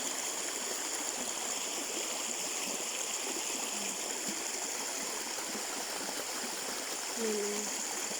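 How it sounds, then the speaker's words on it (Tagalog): A creek flowing beside a cornfield, with a steady broad wash of running water that holds evenly throughout, and a faint voice briefly near the end. "Dito kami sa Sapa."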